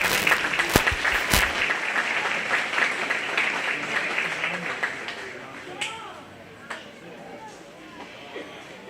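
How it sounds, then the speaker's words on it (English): Spectators at a 4-H/FFA youth beef cattle show applaud a winning cow-calf pair, clapping strongest at first then thinning and fading out, with talk mixed in. "Let's give them a nice round of applause."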